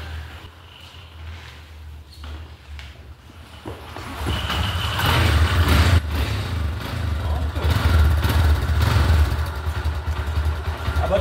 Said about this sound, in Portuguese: A bateria da moto está fraca, então ela deu trabalho para fazer ela funcionar.